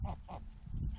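A male goose named Creamy cries out in a harsh, honking call of two or three loud, close pulses, with other fowl sounds faintly around it.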